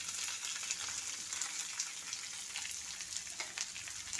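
Onion sautéing in hot oil in a pan with curry leaves, cooked for a green pea and potato masala: a steady, even sizzle that holds at the same level throughout, close and alone with no talking.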